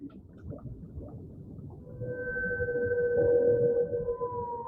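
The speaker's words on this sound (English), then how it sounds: "So these are the sounds of whales singing to each other." Whales sing to each other in long, sustained tonal moans that rise and hold, layered over a low rumbling wash of underwater noise, steady and fairly close.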